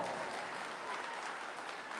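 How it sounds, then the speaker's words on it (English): A business awards event audience breaks into applause, an even wash of many hands clapping, fairly faint and steady for the full two seconds. "Y'all give this woman a round of applause"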